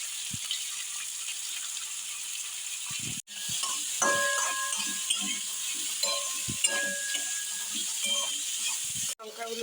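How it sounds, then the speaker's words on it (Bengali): Onion fries lightly in a pan with a steady, bright sizzle, broken by stirring clatters and scrapes and a few brief gaps, close up and with no talk. "পেঁয়াজটাকে একটু হালকা ভেজে নেব।"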